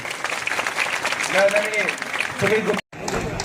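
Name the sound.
audience applause for new Indian Army recruits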